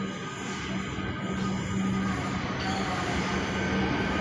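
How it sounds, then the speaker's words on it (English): A train on the Richmond Metro rolls past, a steady rumbling roar with a faint wheel squeal, close and continuous, with no voices. "There's a rare train."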